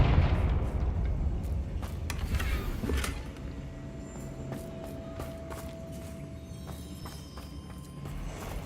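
A Confringo blasting spell bursting in the Hogwarts Legacy video game, a loud fiery blast near the three-second mark over a dense rumbling game soundscape with scattered sharp cracks and a lingering hum afterward.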